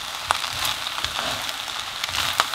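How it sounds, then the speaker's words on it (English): Prawn fried rice with spring onions being stir-fried in a pan, a steady close sizzle broken by a few sharp scrapes and clinks of the spatula, with no talking. "now mix this all together and stir fry all this for a couple of minutes"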